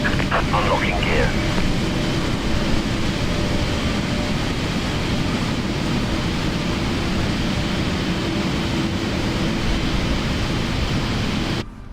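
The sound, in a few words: Boeing 777 engines running in PMDG flight simulator video game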